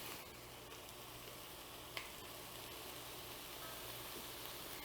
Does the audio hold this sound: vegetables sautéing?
yes